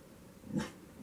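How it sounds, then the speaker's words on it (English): A dog gives a single short, low bark or growl-like woof indoors, brief and moderately quiet against a faint background. "Don't bark again."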